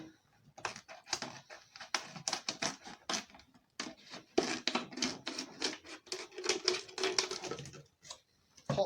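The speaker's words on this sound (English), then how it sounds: "stick the knife in it, so make a hole in it. And then we're going to cut it round." Knife stabbing into and sawing around a plastic bottle, a series of close, sharp crackling scrapes and crunches in irregular bursts, fairly quiet and without talk.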